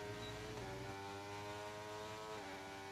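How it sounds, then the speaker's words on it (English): An F1 car in a racing video game, its engine whine holding a high tone and then dipping as the driver lifts off approaching a braking zone, steady and fairly faint throughout. "Listen to his engine right now. He's definitely lifting going into braking zones."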